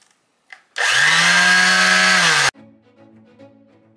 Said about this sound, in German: jetzt kommt der Schleifer zum Einsatz